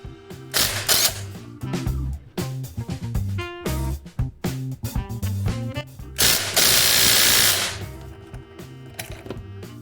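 A ratchet wrench works on the crankshaft pulley of a VW MK4 Golf engine. Loud, close, rapid ratcheting clicks come in bursts separated by short pauses, with a harsher metallic stretch near the end.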